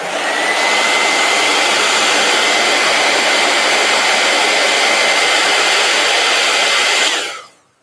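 A heat gun blows in a loud, steady, unbroken rush of air, then cuts off sharply in the last second. No voices are heard.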